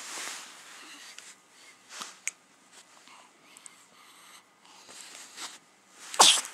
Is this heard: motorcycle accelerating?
no